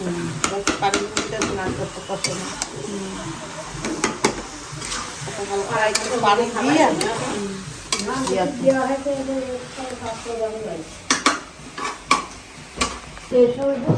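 Meat and spices frying and being stirred in a pan during home cooking in Bangladesh, with steady sizzling, repeated scraping and clinks of a utensil against the pot, while people talk over it throughout.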